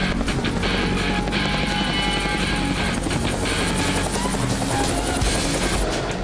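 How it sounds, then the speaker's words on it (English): A helicopter flying at low level for a film shoot roars loud and close, a continuous thudding rotor chop with dense engine noise throughout and no voices. "flying helicopters at a low level"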